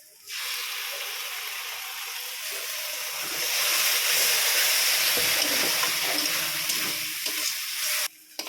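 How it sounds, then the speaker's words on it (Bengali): Pointed gourd seed paste with turmeric sizzles and fries in a pan while being stirred, a steady loud hiss that rises and thickens midway and then cuts off abruptly. "ভালো করে কষিয়ে নিচ্ছি।"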